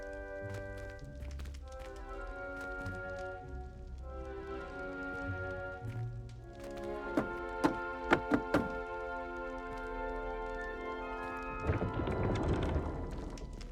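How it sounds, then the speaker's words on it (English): Knocks on a wooden barrel in a short rhythmic pattern in the Hogwarts Legacy video game, a few crisp thunks standing out over a steady musical backdrop, followed by a brief magical swell. "You must tap the barrel, 2 from the bottom, middle of the second row, in the rhythm of Helga Hufflepuff."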